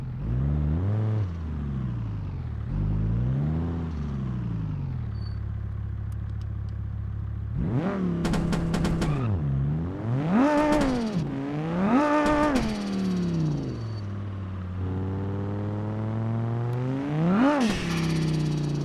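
A blue BX car engine with a tiny turbo at 28 PSI in BeamNG.Drive, revving hard in repeated rising and falling sweeps, sometimes settling to idle between bursts, loud and close with no talk.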